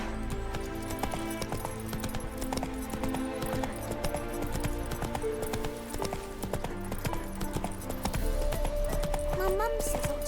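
Roach, Geralt's horse in the video game The Witcher 3, trots with steady clip-clopping hooves under a dense bed of game music and ambience, with voices speaking over it.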